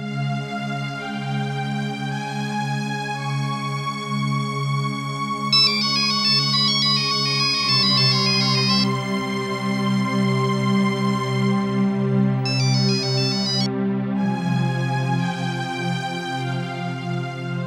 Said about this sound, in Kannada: ರಿಂಗ್ ಆಗ್ತಿದೆ, ತಗೋತಾ ಇಲ್ಲ.